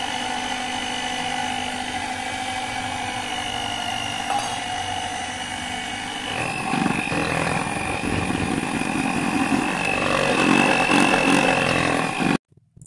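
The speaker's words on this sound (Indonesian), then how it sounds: "Sekarang kita masukin tepung terigunya ya guys. Masih tetap sambil di mixer ya." An electric mixer whirs steadily while beating wheat flour into cake batter, a constant motor whine that grows rougher and louder midway as the flour is worked in, then cuts off abruptly near the end.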